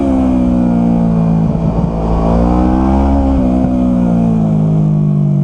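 A motorcycle engine drones loudly and steadily while riding on a road, its pitch rising and dipping slightly as the throttle shifts, with heavy rumble throughout.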